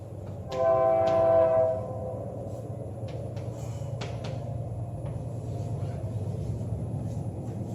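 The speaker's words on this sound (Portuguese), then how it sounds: "Tem um trem apitando, mas faz parte de todo o processo" A train sounds its horn in the distance in Nova Iguaçu, one sustained tonal blast of about a second over a steady low hum of room noise, followed by faint clicks and knocks.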